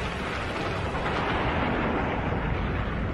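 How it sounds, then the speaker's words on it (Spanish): A supernova explosion sound effect in a Spanish-language space documentary comes as a dense, steady, roaring rumble with a broad hiss, loud and unbroken, with no voice over it. "La explosión es de tipo supernova."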